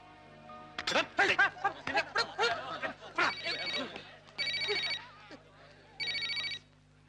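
A telephone rings in short repeated bursts, two to three distinct rings near the end, following a stretch of lively talk and light laughter; the rings are clear and close.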